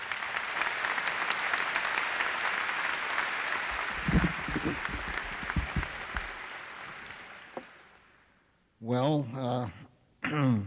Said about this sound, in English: Please give me a warm round of applause for Chancellor Lippman.